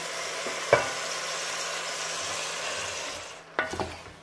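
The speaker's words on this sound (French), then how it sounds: "On fait revenir l'oignon et les aromates." Onion and aromatics sautéing in a pan for veal with olives and preserved lemon produce a soft, steady sizzle, broken by a sharp utensil knock early on and a couple of clattering stirs near the end, with no talking.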